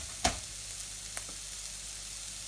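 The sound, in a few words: onion frying in a pan for chickpea curry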